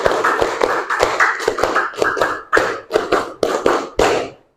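A classroom of students claps a rhythm of five claps, repeated three times. The sharp, close hand claps come in quick groups with brief pauses between them.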